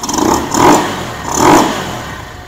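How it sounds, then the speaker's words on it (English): A Venom SS3 KP mini 150 engine fitted with a Nibbi 26mm carburetor revs up twice in quick succession, close and loud, with a rough mid-pitched engine tone that rises and falls, still cold. "Throttle response is really good."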